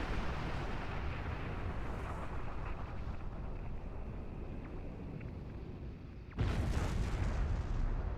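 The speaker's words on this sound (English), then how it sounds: "That was quite an explosion." An enemy ship explodes in the Star Trek Online space combat game, a sudden loud roaring blast bursting in near the end over a steady low engine hum.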